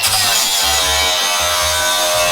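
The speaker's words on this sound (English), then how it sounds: "we'll grind that off, let it rust up nice and proper" An angle grinder works over the damaged metal body of a Toyota FJ45 rock crawler, a loud, continuous abrasive whir with a low pulsing hum that rises and dips as the disc is pressed against the panel.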